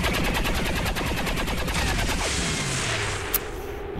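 Rapid, sustained automatic turret gunfire from the XCOM 2 strategy game, a dense unbroken rattle of shots filling the clip, loud and close, with no voices over it.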